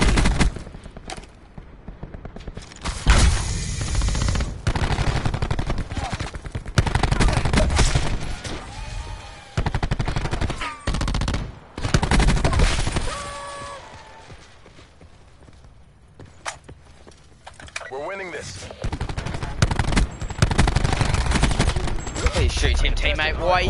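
Video-game gunfire in an online league match: dense bursts of rapid automatic shots and single cracks, loud and close, broken by short pauses and quieter stretches.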